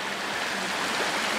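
A small creek flows through a little park in a mountain valley in Korea, giving a steady, close rush of water with no pauses and no voices.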